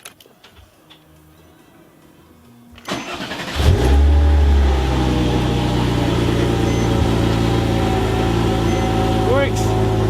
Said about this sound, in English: Let's try starting the car.